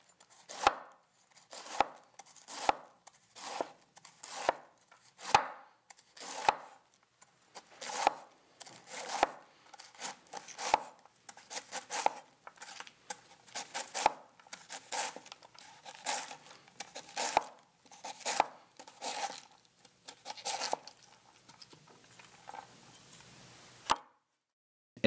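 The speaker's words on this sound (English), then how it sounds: "Taking 1/4 of the red cabbage, thinly sliced crosswise." A knife thinly slices a quarter of a red cabbage crosswise on a cutting board, each stroke a crisp crunching chop, steady and rhythmic, close up, about two dozen cuts with no talking.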